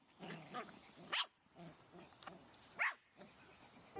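A litter of six puppies barking and yipping, with soft whimpers between two sharper bursts of barks; the sound is fairly faint and small, as if heard from a short distance.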